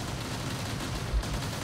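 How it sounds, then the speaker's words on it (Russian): Burst of gunfire from robot weapons in the Robot Warfare video game, steady low rumbling shots with a heavier thump near the end, moderately quiet and continuous. "Стрельба из всех вооружений."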